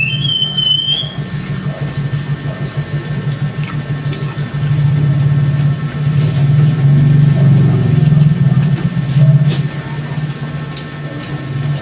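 Vehicles pass on a highway beside the roadside spot, a steady low engine rumble that swells and fades as traffic goes by, fairly loud and continuous.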